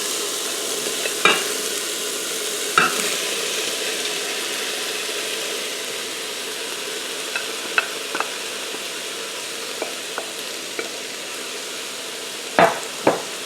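Diced onion, bell pepper and celery sizzle steadily in an Instant Pot while being stirred for a jambalaya, with a continuous close frying hiss and a few sharp scraping clicks of the spoon against the pot.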